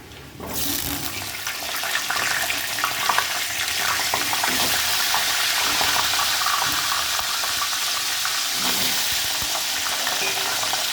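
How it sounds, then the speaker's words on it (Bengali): Potatoes dropped into hot oil for Bengali mutton dak bungalow, an initial burst then a loud, steady hiss of close frying that sizzles on without pause, with occasional scraping stirs and no talking. "এই তেলের মধ্যেই দিয়ে দেব আলু।"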